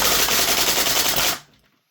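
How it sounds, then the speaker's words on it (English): An EMG CYMA Colt CAR-15 607 gas blowback airsoft rifle fires full auto in a loud, dense burst of rapid shots lasting just over a second, then cuts off abruptly into near silence. "now what I'm going to do is I'm going to flick it to auto and we're going to see if it can get through the mag"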